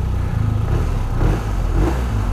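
A 2021 BMW R 1250 RT touring motorcycle engine runs just after being powered on, a steady low idle rumble close by with slight uneven pulsing.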